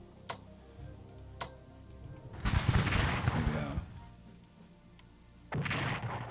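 Gunfire in the Strategic Command wargame comes as two loud bursts of crackling shots separated by a lull, with a few faint clicks before them.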